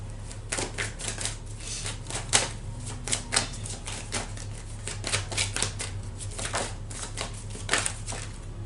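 Tarot cards shuffled by hand in a steady, crisp run of riffling taps and slaps, close and clear over a low constant hum, with no talking.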